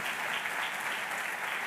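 A church congregation claps loudly and steadily during a Spanish-language sermon, a dense, continuous wash of many hands with no pauses and no voices standing out.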